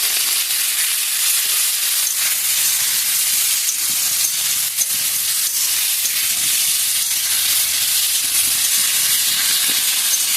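Oil hissing and sizzling steadily in a pan as salt and turmeric fry for a fish curry, a dense, even sizzle that stays loud and unbroken from start to finish, with no voices.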